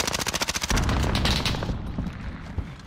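Rapid automatic gunfire in Call of Duty: Modern Warfare, a fast rhythmic burst of shots in the first second followed by heavier, denser firing and scattered impacts that trail off, loud and close.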